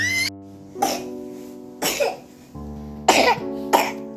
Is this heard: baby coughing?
yes